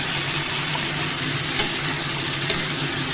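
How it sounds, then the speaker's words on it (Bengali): A paste of ginger, garlic, tomato and green chili sizzles steadily in a hot pan, with a continuous bright frying hiss and occasional stirring scrapes, close and fairly loud. "পেস্টটা ঢেলে দিলাম। এবার আমি ভালো করে কষিয়ে নেব।"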